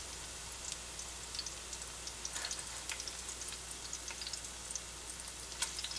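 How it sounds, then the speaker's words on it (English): Zucchini pancakes fry in oil in a pan, a faint steady sizzle scattered with small crackling pops throughout, with no voices. "I like to press them down just to make sure, again, all the uncooked edges are in contact with the oil."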